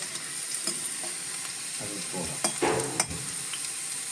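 Vegetable manchurian balls fry in oil until golden, a continuous near sizzle with intermittent scrapes and taps of a spoon stirring the pan, unaccompanied by talk.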